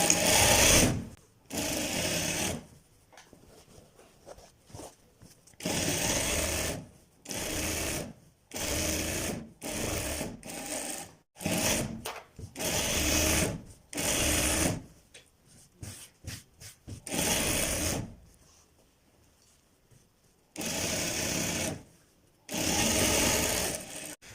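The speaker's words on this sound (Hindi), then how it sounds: "आप साइडों पे भी सिलाई लगा लें" A sewing machine stitches the side seams of children's pajamas in loud, close bursts of rapid mechanical whirring, each run lasting a second or two and separated by quiet pauses as the fabric is repositioned.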